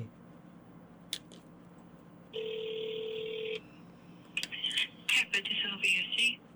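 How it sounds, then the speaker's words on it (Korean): A telephone line being dialed from a Korean radio studio to connect a call: after quiet, a steady two-tone dial tone holds for about a second, then a quick run of short, bright dialing beeps follows. "저 안상훈 박사님 연결하려고 지금 시도 중입니다."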